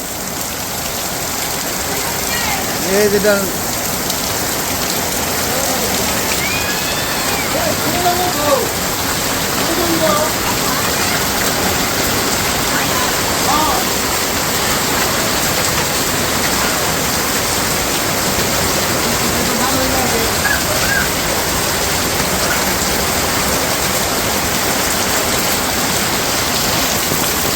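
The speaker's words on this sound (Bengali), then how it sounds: "আজকে মন মতো নামছে বৃষ্টি একবারে" Heavy rain falls on a village road, a dense, steady hiss of downpour close by, with someone speaking briefly over the wash of water.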